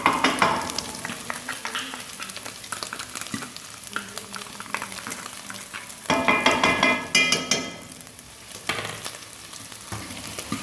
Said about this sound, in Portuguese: Ó, o alho já tá fritando, tá bem douradinho.